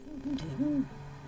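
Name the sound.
two agitated owls hooting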